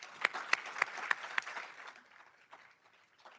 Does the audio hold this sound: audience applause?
yes